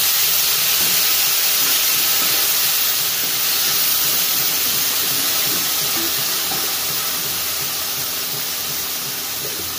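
Water poured into hot frying spice paste for a drumstick and soybean curry sizzles in a loud, steady steamy hiss that slowly eases over several seconds, with no talk.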